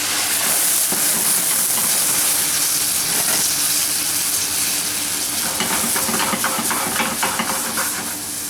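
Brandy poured into a pan and ignited with a flame gives a loud, continuous sizzle and hiss that runs steadily throughout, with crackling bursts growing busier toward the end.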